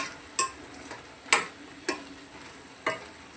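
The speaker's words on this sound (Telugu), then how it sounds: "రెండు స్పూన్ల కారం వేసిన కలుపుకొని" Two spoons of chili powder are stirred into pieces frying in a pan, with four separate spoon scrapes spaced unevenly over a low background sizzle. The scrapes are close and crisp, and no one speaks.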